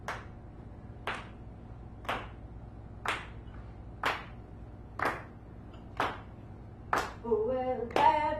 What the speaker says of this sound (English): And you can clap along